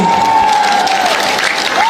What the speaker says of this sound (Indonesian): Tepuk tangan buat mereka Bapak Ibu.